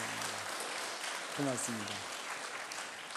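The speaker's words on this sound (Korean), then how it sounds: "우리 박수로 환영하시겠습니다." A church congregation applauds during a Sunday service, a steady wash of clapping throughout as someone briefly speaks over it.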